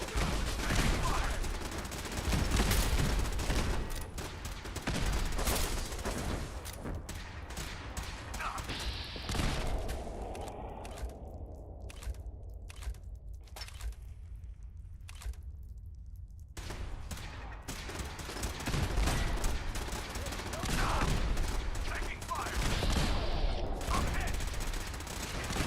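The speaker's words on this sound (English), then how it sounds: "Everybody's shooting." Rapid, dense gunfire from many shooters at once in Fallout 4, with continuous bursts and mechanical clatter filling a loud indoor firefight, easing briefly midway before resuming, with a voice talking underneath.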